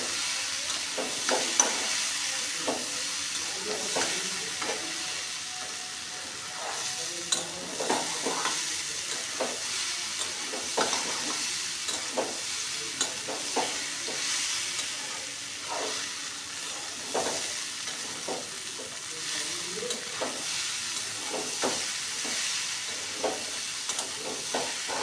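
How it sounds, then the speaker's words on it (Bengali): Moong dal stir-fried in a pan for an egg tarka: repeated spatula scrapes and stirring knocks over a steady, fairly quiet sizzle, with no one talking. "তো ওই মুগ কড়াইটা দিয়ে একটু কষিয়ে নেব ভালো করে।"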